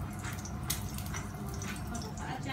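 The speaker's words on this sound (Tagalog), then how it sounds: "Tapos, magdagdag tayo ng water." Water runs steadily into a cooking pot, a continuous splashing pour while preparing salmon with white mushrooms, close and fairly quiet.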